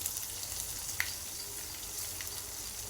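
Asafoetida, chili and cumin sauté in hot oil for dhokla, giving a soft, steady sizzle with a couple of faint spoon clinks. The sound is quiet and close, and no one speaks.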